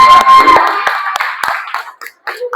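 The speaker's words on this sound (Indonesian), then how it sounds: "Sebelumnya kita berikan tepuk tangan lagi untuk kelompok" Classmates clapping in a classroom after a group presentation, a burst of close, loud hand claps that thins into scattered individual claps, with a few voices talking.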